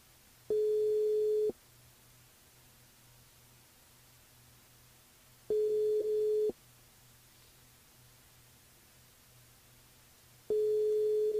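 Telephone ringback tones during a radio call-in show: three evenly spaced one-second tones about five seconds apart, steady and clear over a faint hiss, with no talk.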